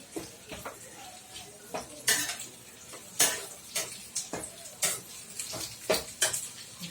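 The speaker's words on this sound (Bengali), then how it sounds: "আমি রসুন কুচিটা দিয়ে দিচ্ছি।" Chopped garlic tipped into a pan for chilli egg and stirred, with repeated close metallic clinks and scrapes of a utensil against the pan over a faint sizzle, sharp strikes coming every half second or so.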